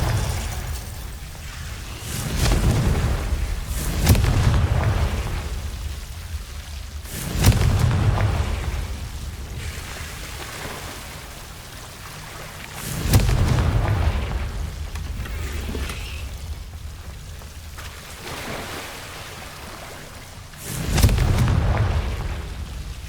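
Repeated spell explosions in the game Hogwarts Legacy, several deep booming blasts a few seconds apart, each followed by a rumbling decay over low background ambience.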